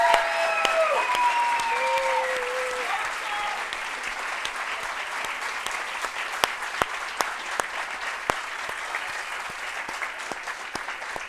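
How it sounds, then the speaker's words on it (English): A steady round of applause rises from the audience at a nursing pinning ceremony, moderately distant and even, with a speaker's voice fading out at the start. "Let's give them all a round of applause."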